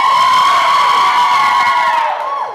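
Women at a wedding reception screaming loudly in unison, a sustained high-pitched shriek that holds steady and then tapers off at the end.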